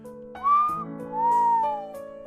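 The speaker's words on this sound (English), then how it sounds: "I let out a whistle." A whistle in the Fate/Hollow Ataraxia video game: two clear, sliding tonal notes, the first rising quickly and the second a longer gentle arc, heard alone over quiet background music.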